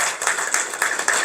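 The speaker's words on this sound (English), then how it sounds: "And you can clap for that." Audience members at a Democratic club meeting clap in a quick burst of close, overlapping handclaps with a few distinct peaks.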